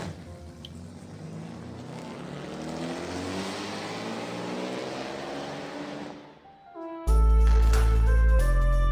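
A getaway car waiting outside for four gunmen fleeing a massacre drives off, its engine drone swelling and fading before giving way to loud music.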